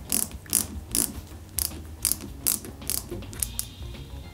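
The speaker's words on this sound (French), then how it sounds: "on les met côte à côte, comme ça. On aligne bien donc les trous et on visse l'ensemble avec deux petites vis" Small capped screws being driven to join plastic parts of an Eaglemoss Ghostbusters Ecto-1 model car, producing close, quiet, rhythmic ratcheting clicks roughly every half second.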